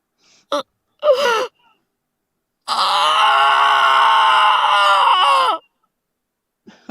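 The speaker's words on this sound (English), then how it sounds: "His scream was filled with agony." A man's long, agonized scream in the Piofiore visual novel game, a sustained strained cry of about three seconds after brief gasps and short vocal bursts.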